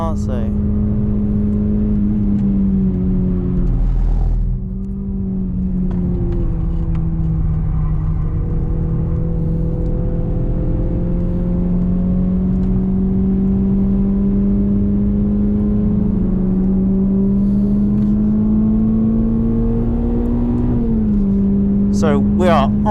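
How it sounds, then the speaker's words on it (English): A Renault Clio 197 drives laps on the Silverstone Grand Prix circuit, heard from on board as a loud, steady engine drone that rises and dips with throttle, with a voice speaking over it. "So we are on board my Renault Clio 197. We're at Silverstone on the Grand Prix circuit."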